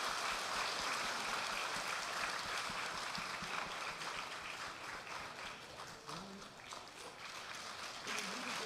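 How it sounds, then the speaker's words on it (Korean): A church congregation applauds in a steady wash of clapping that fades slightly and then swells again, with faint speech underneath. "큰 축하 또 격려 박수 한번 주시면 감사하겠습니다"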